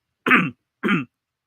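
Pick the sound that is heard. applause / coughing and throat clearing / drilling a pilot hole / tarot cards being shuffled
coughing and throat clearing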